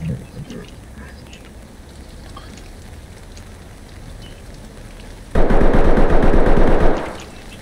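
Gunfire in a video game, a loud sustained burst of rapid automatic fire coming in suddenly near the end over quieter game background noise.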